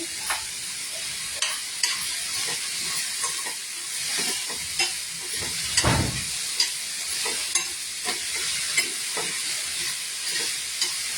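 Chopped onions are stirred into poha in a hot pan, giving a steady close sizzle of frying with repeated scrapes and clicks of the spoon and no talking.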